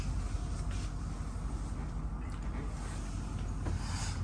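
Steady, cold wind buffets the microphone outdoors beside a motorhome, with a continuous low rumble and broad rushing noise, fairly loud and unbroken throughout.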